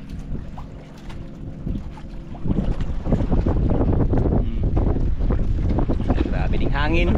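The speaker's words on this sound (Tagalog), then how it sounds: "Grabe ding hangin. Lakas din ng hangin." Strong wind sweeps over a small fishing boat at sea, a loud continuous roar that swells partway through and buffets the microphone, with engine hum and voices in the background.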